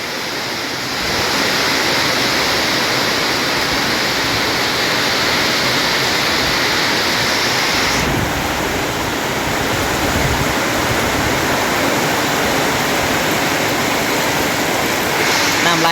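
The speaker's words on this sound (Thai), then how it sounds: "น้ำไหลเลยน้ำหงไปเลย" Steady, loud roar of rushing water as storm floodwater pours across rice fields during heavy rain, a continuous broadband rush with no pauses.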